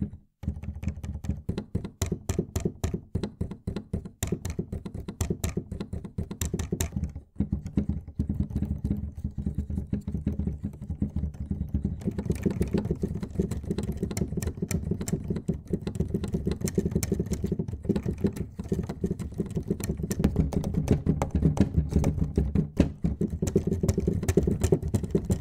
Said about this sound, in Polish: Coś, co może mieć także znaczenie, to głośność pracy samej klawiatury.